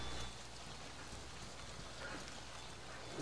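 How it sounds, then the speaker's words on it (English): Steady rain falls in the Metro Exodus video game, a faint, even hiss of drops on surfaces with no talk over it. "We actually need to get out of the rain."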